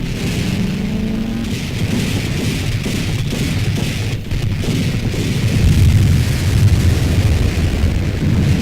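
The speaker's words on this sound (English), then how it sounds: "The U.S. Navy's accurate fire is enormously effective." US Navy anti-aircraft gunfire from WWII warships defending against kamikaze attacks: a loud, sustained, rumbling din of overlapping blasts and booms that swells toward the end, with no talk.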